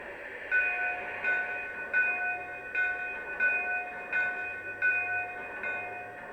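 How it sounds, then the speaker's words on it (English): Bell on a Lionel SP A-6 Atlantic model steam locomotive, ringing in a steady, evenly spaced series of bright strikes, close and moderately loud over a faint background hum. "Go ahead and listen to the bell."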